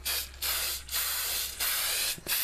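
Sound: spray adhesive being sprayed from a can

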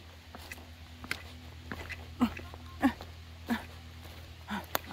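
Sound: dogs barking

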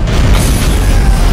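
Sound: explosion in video game Dead Space 3

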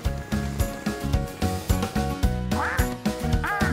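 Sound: cartoon duck quacking

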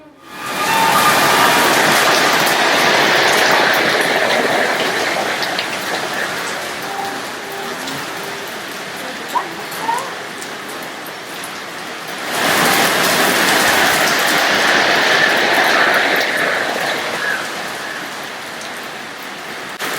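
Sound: heavy rain pouring

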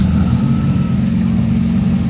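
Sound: Siata car with small Fiat V8 engine driving in

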